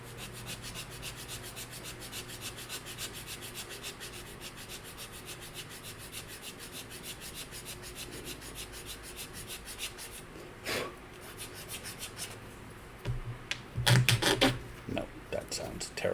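Flexi file rubbing back and forth across a wooden Black Pearl ship model, a steady close scraping texture throughout, ending with a few louder handling knocks and clatter.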